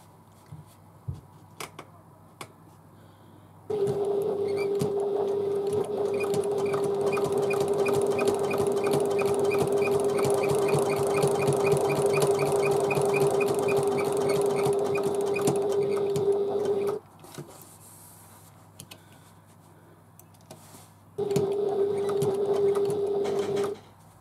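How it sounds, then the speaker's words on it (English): A sewing machine stitches around the edge of a domed handbag in a long, steady run of fast, even needle strokes, stops for a few seconds of quiet, then starts up again close by. "So I've sewn all the way around the outside"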